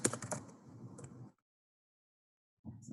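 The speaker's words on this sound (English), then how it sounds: "So in this particular instance, I'm going to type in cyclists" Brief burst of rapid typing on a computer keyboard, quiet and close, followed by about a second of silence before the keystrokes resume.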